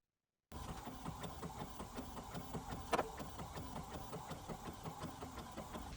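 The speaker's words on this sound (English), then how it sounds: "now I'm going to print this" A sublimation printer prints a design: a faint, steady mechanical whir with a regular rhythmic pulse of clicks, broken by one sharper click partway through, with no talking.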